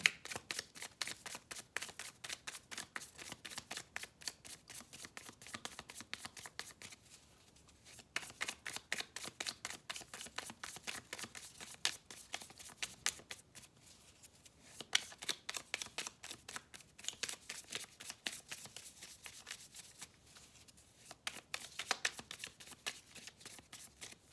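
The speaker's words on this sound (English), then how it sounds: "So we'll pull some clarifying cards down here." A deck of tarot cards is shuffled repeatedly in bursts of riffling and cutting, close and crisp, with short pauses between rounds and no talking over it.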